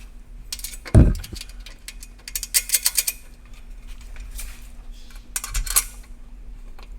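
Metallic clinks and ratcheting taps from bolts being fastened on a catback exhaust muffler of a 2018 Subaru WRX, with a sharp knock near the start and bursts of small clatter spread through the clip.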